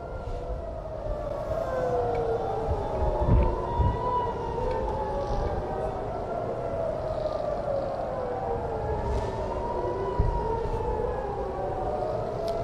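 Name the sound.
air raid sirens wailing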